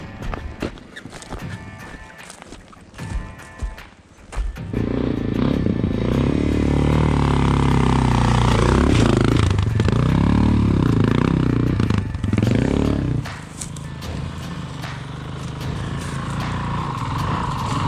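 A Honda CRF450L dirt bike engine revs hard and unevenly with the clutch slipping on a mountain single track, loud and close, after a stretch of rough clattering and faint talk.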